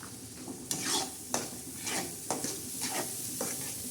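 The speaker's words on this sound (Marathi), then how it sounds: "असं चांगलं हलवून घ्यायचा हा मसाला चांगला गदा गदा शिजवायचा" A spoon stirs a vada rassa masala with chili and salt in a pan, giving repeated scraping strokes and soft clinks over a low steady sizzle, close and moderately quiet, with no voices.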